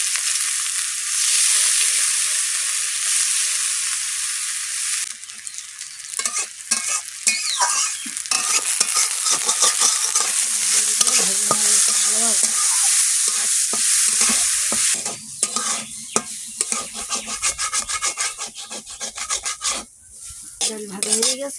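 Moong dal is stirred and fried in a kadai of oil, a loud continuous sizzle broken by scraping spatula strokes that grow busier and more uneven partway through.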